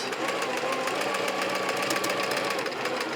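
A sewing machine runs steadily at a moderate, even pace with a fine rapid rattle while stitching around the edges of Cricut-cut appliqué pieces on a quilt block, with the foot pedal only partly pressed.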